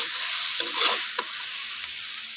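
A spatula stirs fried water spinach with prawns in a pan, a few scraping strokes over a steady sizzle, close and loud.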